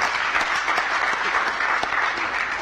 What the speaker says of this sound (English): please, again, give a round of applause to our panelists